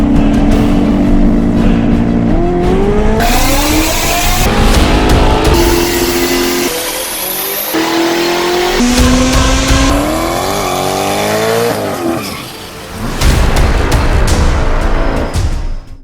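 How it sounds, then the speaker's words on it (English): A turbocharged 6.0L LS V8 in a GM G-body Malibu station wagon, running a Precision 76mm turbo, revs hard on a dyno, loud and close, climbing through repeated pulls with rising pitch and brief drops between runs. "It's a Turbo LS station wagon, GM wagon."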